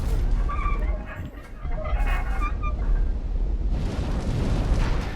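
Roaring fire jets blasting in the Iron Keep of the video game Dark Souls 2, a loud continuous whooshing rumble that dips briefly and then surges again, filling the whole stretch with dense noise.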